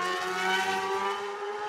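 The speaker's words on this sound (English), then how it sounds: "And we've got the revs rise. We're away racing at TT" Superbike engines rev at the start line of the 2025 Isle of Man TT Superbike race, a steady, loud, sustained engine roar with a rising tone, heard alone without talk.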